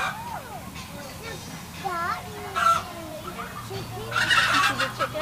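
Chickens cluck and chirp close by at a petting zoo, with a voice and other bird calls, including turkeys, mixed in.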